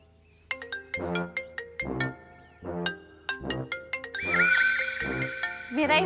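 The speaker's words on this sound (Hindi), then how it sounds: "भाई साहब आपका फोन बज रहा है।" A mobile phone ringtone plays a repeating melodic pattern of bright electronic tones, loud and close, with a sustained warbling section near the end, in a Hindi TV comedy serial.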